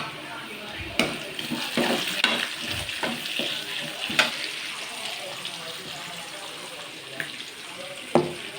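Pureed tomato goes into onions already sautéed in hot oil in a pan for fish curry, giving a steady sizzle with several sharp clatters of a spoon against the pan, fairly close and moderate in level.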